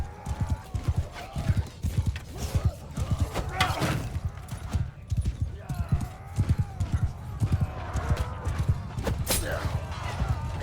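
Galloping cavalry hooves in Mount & Blade 2: Bannerlord, a rapid clattering clip-clop of many horses charging, with occasional whinnies and clashing battle noise, while someone talks over it.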